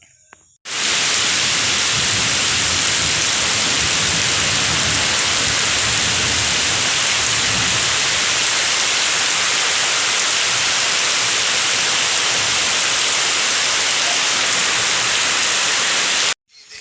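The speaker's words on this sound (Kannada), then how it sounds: "ಇಲ್ಲಿ ಜೋರು ಗಾಳಿ ಮಳೆ ಎಲ್ಲ" Heavy rain driven by strong wind pours down in a steady, loud, unbroken roar that lasts the whole stretch, with no voices over it.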